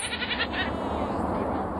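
Grazing goats bleat in Santa Barbara, where they are put to work clearing vegetation, with one or two wavering, nasal bleats over a steady outdoor background, fairly close and clear.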